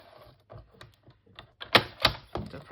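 Cardstock being cut into strips for a paper craft layout: a string of crisp clicks and scraping cuts, sparse at first and then louder and denser toward the end.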